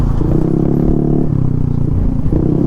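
Many motorcycles and other traffic on a rough, bumpy road in Tagkawayan, a loud continuous engine drone and rattle close by, without speech.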